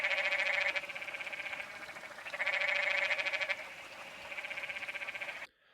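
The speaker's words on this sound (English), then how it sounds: "I did have to listen to the frogs croaking in the creek all night long" Frogs croak in a creek at a campsite, a chorus of buzzy, pulsing calls that rise and fall in overlapping waves at moderate loudness with no voices, cutting off abruptly.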